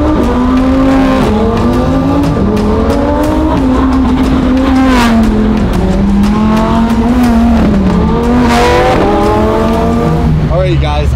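A Lamborghini Huracan Evo in sport mode slides around, its engine note rising and falling continuously at close range with tire squeal mixed in, loud throughout the whole stretch.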